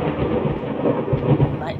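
Rolling thunder and steady rain of a thunderstorm inside the horror game Layers of Fear, a continuous low rumble with rain hiss filling the whole stretch at fairly loud level.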